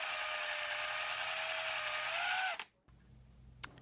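Handheld power drill boring holes in a broken G-35 guitar part, a steady high whine for a couple of seconds that winds down and stops, followed by a faint click.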